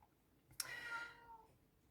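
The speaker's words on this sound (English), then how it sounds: "Never mind my cat here." A pet cat gives one short, faint meow indoors, alone against quiet room tone.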